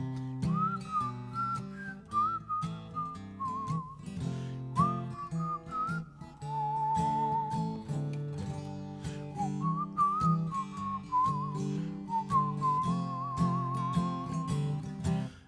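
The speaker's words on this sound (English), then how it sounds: "Whistle along." Live whistling of a melody along to a country song, the bright sustained tune gliding over steady guitar and band accompaniment with a clear beat, loud and continuous with no singing.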